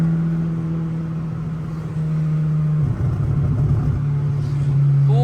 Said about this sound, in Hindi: RPM थोड़ा ऊपर लेके जाते हैं।